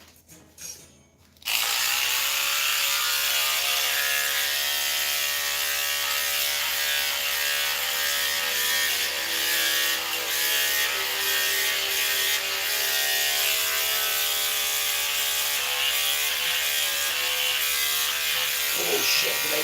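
Electric razor buzzing loud and steady from about 1.5 seconds to the end, a continuous close-up mechanical whir with a rattling edge, following a brief quiet start.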